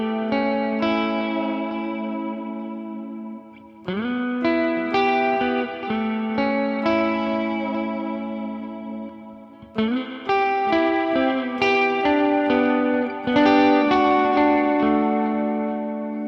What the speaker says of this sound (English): Let's do a little kind of ambient kind of stuff on the middle position. And I'm gonna turn on an extra reverb.